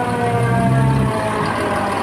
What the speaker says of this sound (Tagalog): ito na ang saro sa kairibahan tang fire truck sa Chinputong Volunteer Fire Brigade